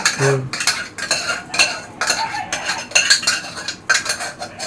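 Rice and potato fry being served onto a plate at home, with a spoon scraping and clinking against metal dishware in a quick, uneven series of close taps and scrapes.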